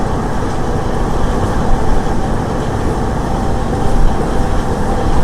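A DEMU passenger train on the Nandyal to Tirupati route runs at speed, a steady broadband rumble and rattle of wheels and carriage heard from inside, continuous throughout with no talk.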